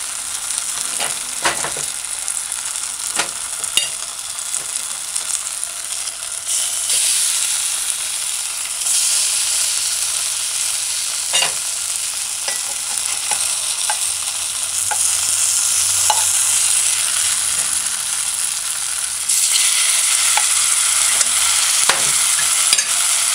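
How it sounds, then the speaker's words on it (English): Bammy, Jamaican cassava fritters, fry in hot oil with a loud, continuous sizzle and hiss, broken now and then by small pops and crackles, heard close and alone for a long stretch. "Just look, it took 6 minutes to fry this."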